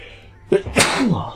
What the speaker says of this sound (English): I'm sneezing a bit today